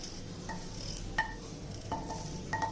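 Ginger and cumin lightly roasting in a pan, with faint sizzling under a few sharp metallic clinks of a spoon stirring against the pan, quiet and close.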